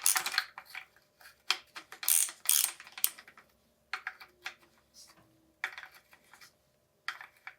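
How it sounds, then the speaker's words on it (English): A part of a 2022 FOX Float 34 Performance Elite FIT4 suspension fork is unscrewed during a bike service, giving close, irregular ratcheting clicks and small metallic ticks in short clusters with brief gaps. "Okay, let's unscrew it."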